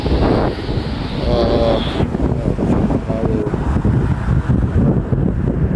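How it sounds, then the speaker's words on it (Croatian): Loud, steady roar of strong storm wind in Zagreb buffeting the microphone, constant and rumbling throughout with no clear pauses. "Jaki vjetar u Zagrebu i u okolici i drugdje."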